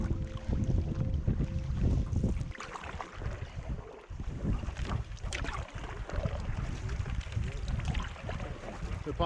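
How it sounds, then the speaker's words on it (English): A canoe is paddled through reed beds on a lake in Sweden, with soft paddle strokes and water splashes mixed with rustling and wind buffeting the microphone. "paddling through the reed beds now, trying to find a spot where we can carry over the canoes"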